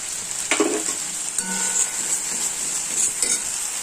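Cumin paste frying in hot oil in a pan alongside tomato, ginger and green chilli, a close, steady sizzle broken by a few scraping stirs and light clinks, with no voices.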